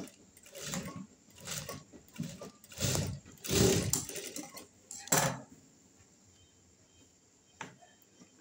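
A sewing machine runs a straight stitch to attach a lace border to a blouse sleeve, working in short, quiet, close-up bursts with pauses between them.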